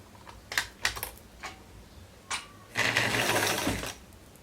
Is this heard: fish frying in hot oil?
no